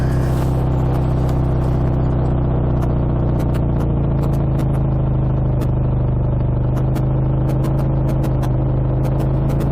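A BSA A65 motorcycle labors up a steep mountain road in a loud, steady engine drone, with a constant low rumble and rattly mechanical clatter riding on top.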